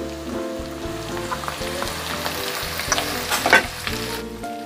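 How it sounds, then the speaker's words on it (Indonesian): Thinly sliced shallots hiss and crackle as they hit a pan of garlic and are stirred in, a steady loud sizzle with scraping strokes that peaks in a burst of spattering near the end. "Aromanya sudah harum, saya akan masukkan bawang merah yang sudah diiris tipis."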